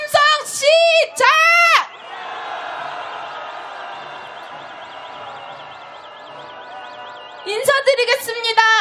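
Crowd at a candlelight rally march calling to impeach the president raises a broad, sustained roar of shouting and cheering for several seconds, framed by loud amplified chanting over a speaker at the start and end.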